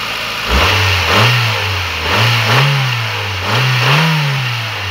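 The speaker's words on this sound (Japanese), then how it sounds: "ちょっと吹かしてみます。" A stock Honda Civic Type R EK9 engine is blipped three times from idle, each rev rising sharply in pitch, holding briefly, then falling back, loud and close with no talking.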